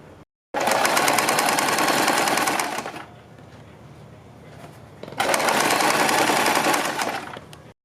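A sewing machine runs in two long bursts of stitching through fabric for a kurti neck, loud and close with a rapid mechanical whir and a quieter pause between them.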